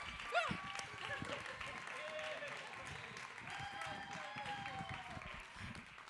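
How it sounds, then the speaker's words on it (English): Audience applause for a group of Boston poets at a spoken-word event, moderate and steady for several seconds, with voices and tonal sounds over the clapping. "Another round of applause for these poets."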